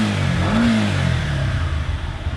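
Yamaha MT-15 single-cylinder motorcycle engine revving up toward 7,000 RPM, a loud, steady rising drone with a brief climbing pitch sweep early on, continuous and close with no talk.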